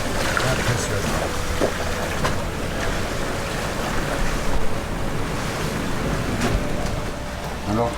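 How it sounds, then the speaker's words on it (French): A strong wind storm off Mayotte lashing a moored sailboat, with constant roaring gusts and surging waves, dense and loud throughout, and a voice faintly in the mix. "le coup de vent annoncé, il est bien arrivé"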